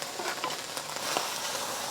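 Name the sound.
barbecue pork frying in oil in a pan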